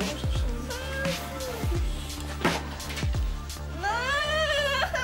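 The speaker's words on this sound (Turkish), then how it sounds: "Köpek değil bu, kedi. Yok miyav bu." A cat meows several times, drawn-out and plaintive, over a low background hum.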